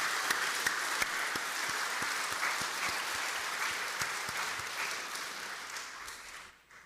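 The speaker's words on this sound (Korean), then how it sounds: "우리 지휘자와 반주자 또 오케스트라 모든 성가 대원을 위해서 다시 한번 아낌없는 큰 박수 해드리겠습니다" A church congregation gives a long, hearty round of applause for the choir, conductor, accompanist and orchestra, dense clapping filling the space before tapering off at the end.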